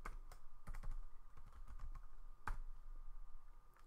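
Computer keyboard typing while entering a password: a steady run of light, quick key clicks at close range, fairly faint, with a couple of slightly harder taps and no talking.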